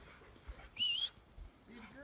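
A dog outdoors on a Colorado mountain trip gives a short, high, thin whine, then a few soft yips, heard fairly quietly with faint human voices around it.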